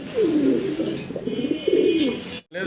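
Pigeons coo at a pigeon market, several rolling, throaty calls close by, one after another over a busy background with faint chirps.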